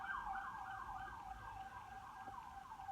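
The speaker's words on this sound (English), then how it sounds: "And the box is obligatory pause for the siren," A siren passes outside, its wailing tone sweeping up and down steadily for the whole stretch, moderately loud and carrying over faint street rumble, with no talking.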